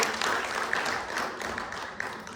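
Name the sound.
audience applause for the stage team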